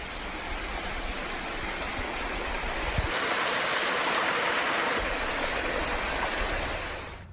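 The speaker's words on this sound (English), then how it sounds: "We found the big waterfall." A big waterfall roars with a steady, dense rush of falling water, loud and close, filling the whole scene with continuous broadband hiss and no voices.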